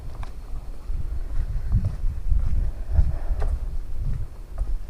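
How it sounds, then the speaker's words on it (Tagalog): Steady wind gusting across an open cemetery beside former rice fields, a low rumbling buffet on the microphone that rises and falls without pause and has no voices over it. "Tapos yun nga, mahangin."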